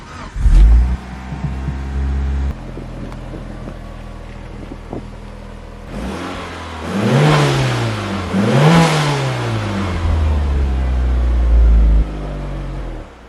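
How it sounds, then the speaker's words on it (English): A Mitsubishi Evo 8 with its stock full exhaust system revs hard twice after idling, the engine note rising and falling loudly and close, then settling back to a steady idle. "If you guys never really hear how Jalen's car sounds, stock full exhaust system, let me go ahead and show you guys."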